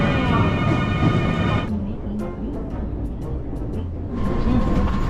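A Rapi:t airport express train in Japan rumbles along with a rising electric motor whine that fades, drops to a steady rumble, then returns.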